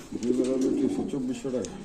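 Pakistani beauty pigeons coo in low, throaty rolling calls close by, with a voice talking in the background.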